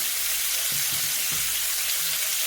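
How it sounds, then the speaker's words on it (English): Stuffed mackerel, a Goan recheado fry, frying in oil in a frying pan, giving a steady broadband sizzle with a few soft low bumps from the pan, no voices. "I'm going to add some oil so that the fish doesn't stick to the frying pan."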